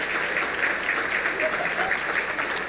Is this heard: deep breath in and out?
no